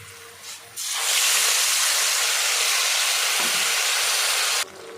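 A sudden loud sizzle bursts up as ground spice paste hits a hot pan, a steady broad hiss that holds for several seconds, then cuts off abruptly.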